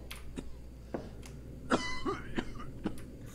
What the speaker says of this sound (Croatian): Još sam ovo slučajno snimio ovaj kašalj, znaš.